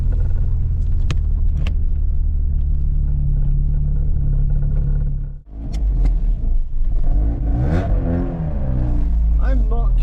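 Opel Nova 1.6 fuel-injected car engine with a new regulator and injectors, running steadily with a loud low rumble, dipping briefly around the middle and then revving up with rising tones.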